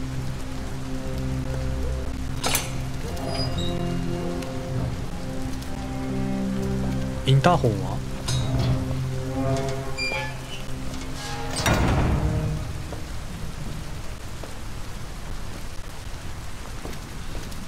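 Steady rain falls in the video game Detroit: Become Human, a soft continuous patter over a low ambient music bed, with a brief spoken question and a few sharp tonal in-game sounds.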